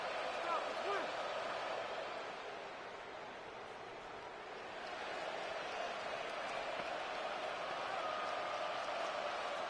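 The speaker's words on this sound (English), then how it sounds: "This crowd turning up the decibel level." Crowd noise in a Madden football video game, a dense steady roar that dips slightly then swells louder toward the end, with no speech over it.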